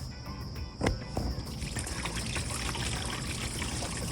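Washer fluid poured from a jug into a truck's reservoir, a steady close trickle of liquid after a brief knock, continuous for a few seconds with no talking.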